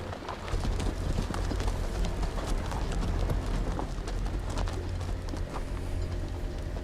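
Horse hooves clip-clop steadily in a Telltale Game of Thrones video game, a continuous near rhythm under dense game music and ambience, with no pauses through the stretch.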